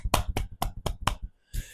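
A person claps their hands five times in an even rhythm, each clap close and sharp, followed by a short pause and a softer final sound.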